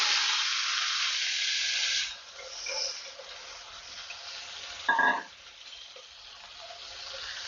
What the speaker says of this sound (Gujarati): અને તરત જ સમારીને રાખેલા કારેલા કડાઈમાં ઉમેરી દઈશું